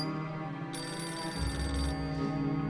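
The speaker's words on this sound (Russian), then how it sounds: "То в дверь стучат, то телефон звонит" A telephone rings in the video game Beholder 2, a sustained electronic bell tone with layered pitches holding steady throughout, fairly close and clear.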